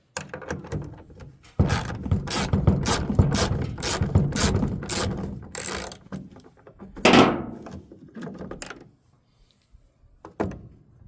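A 1/4 inch socket wrench ratcheting on small fasteners while replacing the heater core on a 1978 Chevrolet C10: rapid, loud, close clicking bursts in quick back-and-forth strokes, then quieter scattered clicks.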